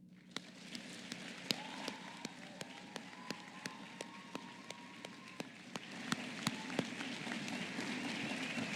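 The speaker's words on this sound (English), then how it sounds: "And I think we should owe him a round of applause right now." Audience at the 2017 Davison Alternative Education graduation ceremony breaks into applause, scattered sharp claps building to a steady, fairly distant patter of many hands, with faint background murmuring and a few whistle-like tones underneath.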